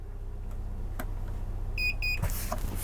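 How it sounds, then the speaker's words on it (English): A LevelMate Pro+ leveling device on an RV gives two short, clear electronic beeps close by over a low background hum, followed by a muffled thud. "2 beeps."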